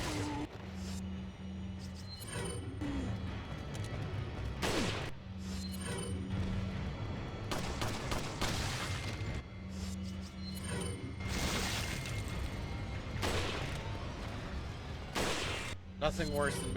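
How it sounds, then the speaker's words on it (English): Repeated gunshots from shooting an enemy in Resident Evil 4, a series of sharp cracks spread across the stretch at irregular intervals, mixed with game sounds and background music, with a voice talking intermittently underneath. "I'm just shooting a dead guy."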